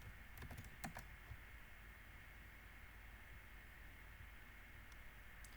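A short, faint burst of keystrokes on a computer keyboard while coding, the quick taps near the start, followed by a steady background hiss.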